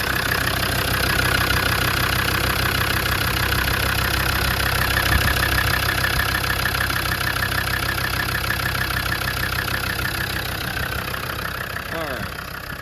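A 2000 Land Rover Defender 110 with a Td5 diesel engine idles steadily, a loud, close, even rumble with a faint ticking knock. It keeps going throughout, easing off slightly near the end.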